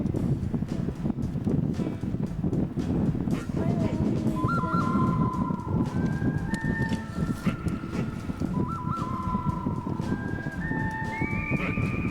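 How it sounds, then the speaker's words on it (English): Steady wind roars across the Bess shoulder of Choco Mountain at about 9,700 feet in 1997. The gusty rumble runs nonstop, with thin whistling squeals rising over it in the second half. "Windy."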